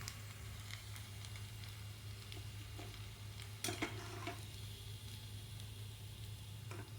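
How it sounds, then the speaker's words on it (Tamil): Potato fries sizzle in hot oil, giving a quiet, steady crackle and hiss. A low constant hum sits under it, with occasional sharper pops and one brief clatter partway through. "இந்த மாதிரி எண்ணெயில் போட்டு பொரித்து எடுத்துக்கோங்க"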